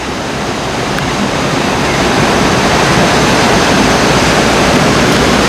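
The Tunga river near Thirthahalli rushes over rocks in a loud, unbroken roar of water, close by and steady throughout with no voices.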